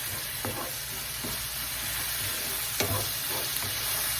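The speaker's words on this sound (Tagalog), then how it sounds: "Gigisa po natin para maalis po yung lansa." Chili and garlic sautéing in a pan with a steady close sizzle and hiss, broken by occasional scrapes of a utensil stirring.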